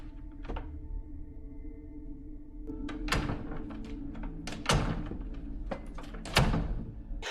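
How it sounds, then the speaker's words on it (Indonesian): A knock on a door in a film scene, heard as a few sharp, separate thuds over a low background hum, each knock loud and close. "Robert tiba-tiba mengetuk-ngetukkan pintunya 3 kali"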